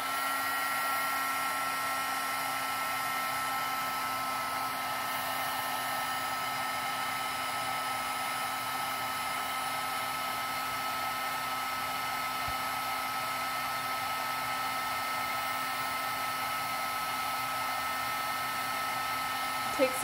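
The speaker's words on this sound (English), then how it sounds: "I'm gonna heat this up with my heat gun so you can see the metallic color melt." A heat gun blows steadily to melt metallic Distressed Oxide ink on a craft background, a constant loud whirring hiss with a fixed motor whine that runs unbroken throughout with no talking.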